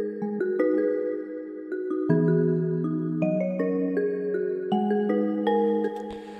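A MIDI melody plays on a one-shot sample with reverb, a smooth sustained sequence of stepped notes blending into one another, steady and close with no voices.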